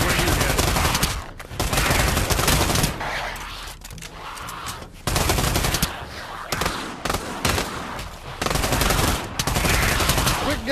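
Heavy automatic gunfire rattles in long, dense bursts inside the VR shooter Pavlov, loud and close, broken by brief pauses between volleys.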